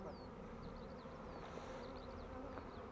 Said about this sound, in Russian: Вот так работает пчела.